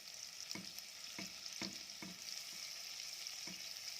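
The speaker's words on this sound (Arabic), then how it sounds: "هننزل بقى بالثوم بتاعنا مع الزبدة والزيت، ونبدأ نحمره" Garlic frying in butter and oil gives a quiet, even sizzle, with a handful of spoon taps and stirring clicks spaced through it, close by and with no talking.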